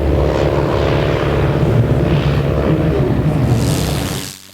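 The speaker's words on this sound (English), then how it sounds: "a lone Bristol fighter from No. 16 Squadron, Royal Flying Corps, takes to the air" A World War One Bristol Fighter biplane of the Royal Flying Corps roars nearby with a loud, steady propeller engine drone as it takes off, fading away at the end, with no talking.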